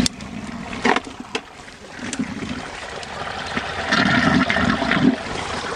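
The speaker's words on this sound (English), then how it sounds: "this is what allows the water to drain down slowly" Water draining slowly through a standpipe in a vermicompost flush toilet system, a steady close gurgling trickle and rushing flow with occasional splashes.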